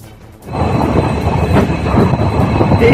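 A train running on the line between Hasimara and Madarihat stations, a loud, steady rumble of wheels and carriages that swells in after a quiet start and rolls on close by.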